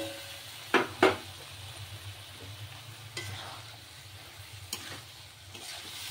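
Boiled banana flower is stirred into a spice masala frying in a pan, giving a low steady sizzle with two sharp spoon scrapes near the start and a few softer clinks later.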